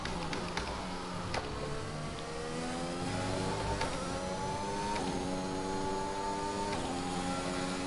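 Formula 1 car engine in the racing game F1 2021, a steady high-pitched whine with rising harmonic sweeps as it accelerates through gears, with brief shift blips, loud and continuous with no talk.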